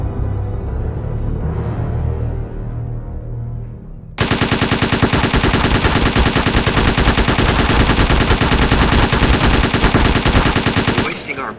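Gunfire in the animated Ninjago film: after a quieter tonal stretch, sustained rapid machine-gun bursts erupt abruptly and keep up loudly for about seven seconds before cutting off.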